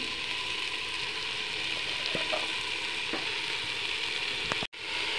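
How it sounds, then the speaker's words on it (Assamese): Steady sizzling from a hot pan with a few scrapes of a spatula as pumpkin greens are stir-fried, ending in a brief sharp knock. "সেইখিনি লৰাই পেলাই ভাজি ল'ম"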